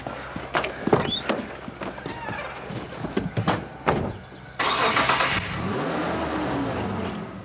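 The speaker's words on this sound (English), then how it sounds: "I heard my car start up and I could see that he was reversing out." A car engine cranks and catches, settling into a steady running drone after a few scattered bumps and clatters nearby.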